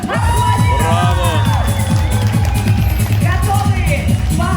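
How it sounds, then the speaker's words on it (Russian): Loud crowd at a dolphinarium show cheering and shouting, with whoops and voices layered into a dense, continuous roar of spectators. "Кричим, свистим, топаем. Самое главное, громко."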